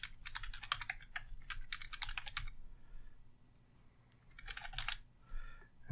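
Quick bursts of keystrokes on a computer keyboard as a password is typed, close and quiet, with short pauses between runs of clicking and no speech.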